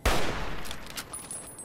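A gunshot rings out in Fallout New Vegas at Quarry Junction, a single sharp loud crack with a short echoing tail fading over about a second.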